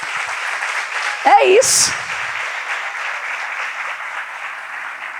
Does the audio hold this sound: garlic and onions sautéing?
no